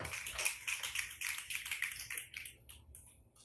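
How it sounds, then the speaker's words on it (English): An audience at a youth open mic night snaps their fingers, a scattered crowd of quick, dry clicks from many hands overlapping for a few seconds and gradually thinning out. "snap your fingers"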